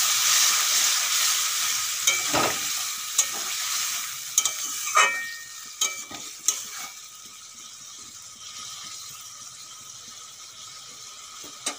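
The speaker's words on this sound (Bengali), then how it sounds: "কুমড়োর সঙ্গে মশলাগুলো ভালো করে ভাজা হয়ে গেছে।" Pumpkin pieces and spices sizzle in a pan, a bright hiss that fades over time, punctuated by scraping stirs and clatters of a spoon against the pan, with water poured in and the frying quieting afterward.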